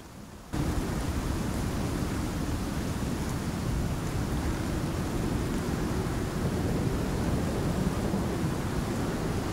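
A hailstorm with thunder in the survival game Icarus makes a loud, steady roar of broadband noise that starts abruptly after a short quiet moment and holds unbroken throughout, with no voices.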